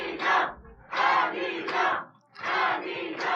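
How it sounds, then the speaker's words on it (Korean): Crowd at a political event roaring and cheering in loud repeated surges, each swell of shouting lasting under a second, with brief dips between waves. "함성 소리가 큰데요"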